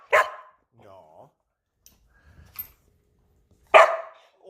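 A pet dog gives two sharp, loud barks a few seconds apart, with a soft whine and quiet pauses between them.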